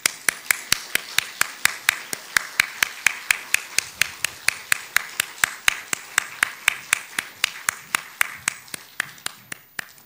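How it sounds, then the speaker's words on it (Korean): Crisp, rhythmic clapping in unison by a standing church congregation during a Sunday service, about three sharp claps per second at an even tempo, continuing for the whole stretch. "우리 자리에서 다 같이 일어나서 우리 하나님께 영광의 박수 올리도록 하겠습니다."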